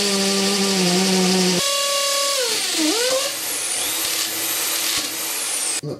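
High-pitched whine of a power drill running, its pitch dropping and wavering as it bites into material, then spinning on steadily.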